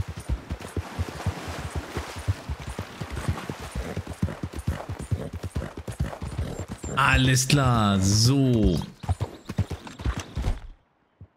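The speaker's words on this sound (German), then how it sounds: "Und wir reiten jetzt wieder an denen vorbei." Horse hooves clip-clop in a steady riding rhythm in Red Dead Redemption 2, with a horse whinny partway through. Someone talks over the hoofbeats before the sound cuts to silence at the end.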